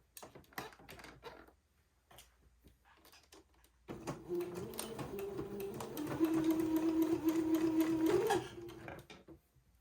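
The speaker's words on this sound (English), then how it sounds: "I will sew along next to the entree both of these little sleeve openings, taking the pins out as I come to them." Sewing machine stitching along small sleeve openings on a garment, starting after a few light clicks and then running as a steady, close mechanical whir for several seconds before stopping.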